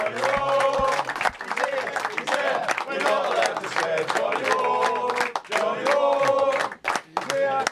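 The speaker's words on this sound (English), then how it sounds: "Give him one more big round of applause." A studio audience applauds and cheers for a guest on a football-themed TV talk show, with dense clapping and shouts filling the whole stretch and a few brief dips. A host speaks over the crowd.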